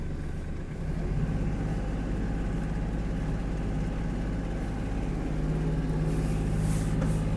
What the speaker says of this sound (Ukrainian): Перша передача, і ми вже їдемо